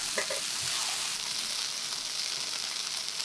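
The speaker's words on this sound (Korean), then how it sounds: "뒤집어서 맛간장 발라주고 다시 뒤집어서 맛간장에 한번 구워주세요." Eggplant slices pan-fry with a soy sauce glaze, giving a soft, steady sizzle with a few faint crackles and a slight shift partway through, fairly quiet and without speech.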